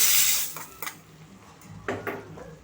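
Browned garlic tempering in oil tipped into a cooking pot, with a loud initial hiss and metal utensils clinking and scraping against the pot in a few distinct knocks afterward.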